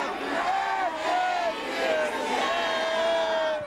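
A large outdoor crowd singing to Michelle Obama for her 45th birthday, a massed chorus of voices carrying a sustained, wavering melody, fairly distant and blended together.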